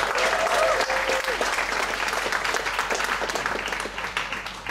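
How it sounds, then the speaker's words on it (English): An audience at a PechaKucha Night in Ubud bursts into loud, sustained applause for the evening's speakers, with dense clapping and crowd noise throughout and a voice briefly audible in the din. "please give a big applause for the speakers tonight"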